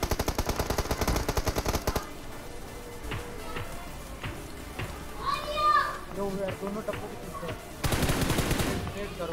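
Rapid automatic gunfire in the battle royale game BGMI comes in dense bursts at the start and again near the end, with scattered single shots and game sounds between, under steady talk from a player.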